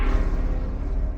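A heavy, raw synthesizer "Big Piano String" preset holds a thick, sustained low chord, dense and loud throughout with a slight wavering texture.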